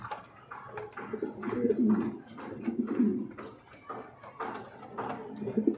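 A running pair of Kashmiri Nesar pigeons coos at close range, giving repeated throaty rolling phrases in an irregular rhythm, with light rustling between calls.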